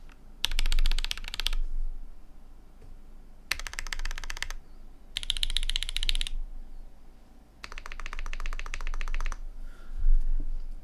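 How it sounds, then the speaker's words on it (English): Typing bursts on a full-size Vertex Intro S100 keyboard fitted with Gateron Oil King switches and a carbon fiber plate: four dense clusters of rapid, close keystrokes separated by short pauses, with no talking. "So this is just Gateron Oil Kings. I just want to test for hollowness."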